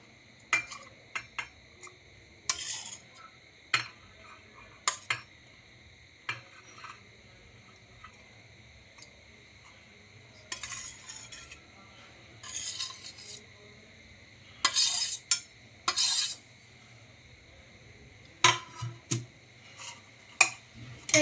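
Grated carrot and beetroot for a koshimbir salad are tipped into a mixing bowl and stirred: faint, scattered scrapes, rasps and light clinks in short bursts separated by quiet pauses.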